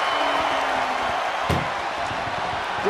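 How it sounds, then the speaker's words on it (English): Ambulance doors slamming shut in the WWE 2K24 wrestling video game: one sharp, loud slam midway through, set against a steady roar of arena crowd noise and commentary. "Pushing with every fiber of their being to slam the door."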